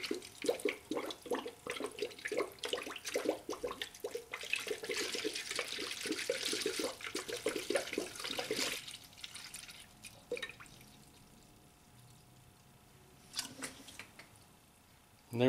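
Coolant pours and gurgles into a spill funnel on a Honda cooling system, a dripping, sloshing liquid sound that runs steadily for several seconds before thinning to faint trickles and drips.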